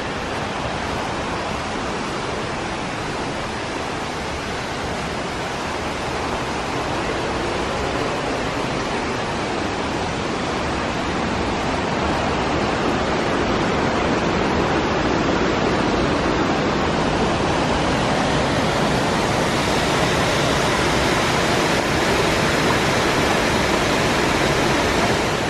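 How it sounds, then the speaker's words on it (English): A river rushing under a trail bridge in the forest along the Pacific Crest Trail, a loud, continuous broadband roar of flowing water with no talking, steady throughout. "I knew I'd be crossing this river."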